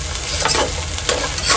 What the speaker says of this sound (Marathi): टमाटा चांगला परतून घ्यायचा